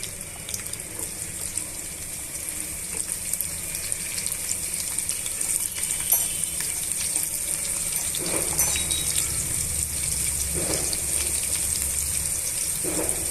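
Thinly sliced onions fry in a pan for a carrot and brinjal curry, making a steady, close, high hiss with occasional soft stirring bumps and no talk.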